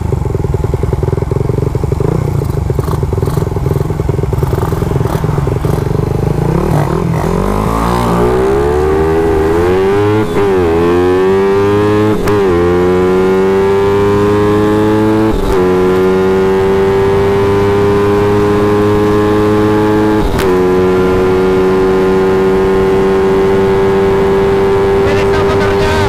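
A Rusi motorcycle engine revs up with climbing pitch, then holds a loud, steady drone broken by a few sharp throttle blips.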